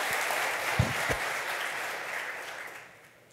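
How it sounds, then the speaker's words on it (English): An audience at the close of a panel discussion on organizations and the next economy breaks into steady applause, dense clapping that holds for a few seconds with a couple of louder claps early on, then tapers off near the end. "You want to end on the applause?"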